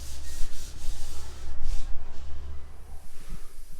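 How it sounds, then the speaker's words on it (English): Rhythmic rasping of sandpaper on wooden posts, repeated back-and-forth strokes close by, with a low rumble underneath. "now we're working on sanding the posts, getting these ready"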